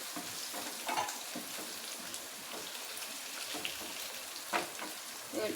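Paneer pieces frying in oil in a pan, a steady broadband sizzle throughout with occasional louder crackles and a few clinks of a spoon, close and alone without talk.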